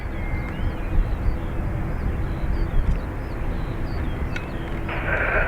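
A jet taking off from runway 28 right at Dublin Airport gives a steady, broad engine roar that holds throughout, rising slightly toward the end with a brighter whine.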